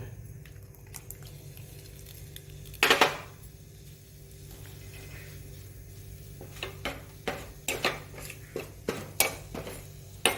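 A spoon stirring buttermilk kadhi in a pot, with a sharp clink early on, then a quiet stretch, then a run of soft scraping and tapping strokes against the pot that get busier toward the end.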